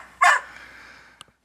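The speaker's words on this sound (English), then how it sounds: "Let that fucking dog out!" A single loud dog bark rings out near the microphone during a phone call, followed by a faint short click and then quiet.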